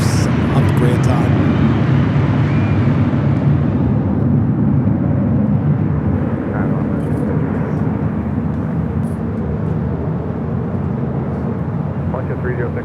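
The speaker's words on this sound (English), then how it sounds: "Right up next is that Fiji A350" A Fiji Airways Airbus A350 jet at Los Angeles airport gives a loud, broad engine roar that stays strong and fades slightly over several seconds.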